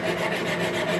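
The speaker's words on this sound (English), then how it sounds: "now we'll get us a little bit of sandpaper here" Drywall mud being hand-sanded with sandpaper during a guest house renovation, heard as a close, continuous scratchy rubbing.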